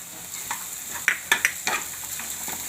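Carrots and peas frying in hot oil in a pan, with a soft steady sizzle and a few louder stirring scrapes and clinks near the middle, close and fairly quiet, no talking.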